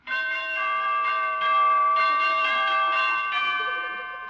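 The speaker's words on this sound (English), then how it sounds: "one of these days, wedding bells may be ringing for Honest Harold" Wedding church bells peal steadily for several seconds, bright sustained tones ringing in overlapping strokes, loud and close with no voices.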